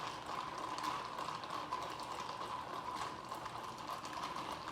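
A LiquaCel drink being mixed with a full load of ice makes a steady, fairly quiet churning and fizzing wash with no clear breaks, carrying on alone without talk.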